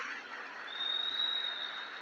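A church congregation applauding in praise during a worship service, a steady broadband wash of clapping that swells slightly in the second half, moderately distant and even, with no talk over it.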